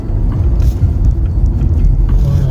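Car engine droning low and steady from inside the cabin as the driver shifts gears, a continuous loud rumble with no talking.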